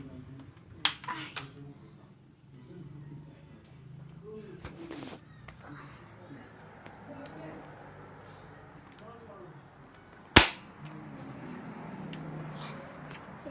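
Two sharp snapping pops of a toy pistol firing a few seconds apart, over faint background chatter and room noise.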